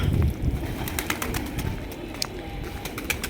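Pigeons coo in low, rolling throaty calls close by, repeated steadily over light background noise, with a few sharper clicks and chirps between them.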